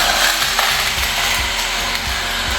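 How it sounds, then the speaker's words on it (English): A BlendJet portable blender whirs through blueberries for a smoothie, a loud continuous motor buzz with rattling, ratchety chopping pulses and no talk. "close your blender. And let's blend this in 3, 2, 1."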